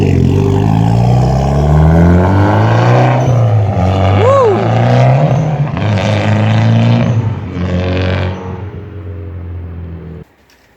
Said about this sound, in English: Right now my dad's driving, so you guys can hear the blow-off valve.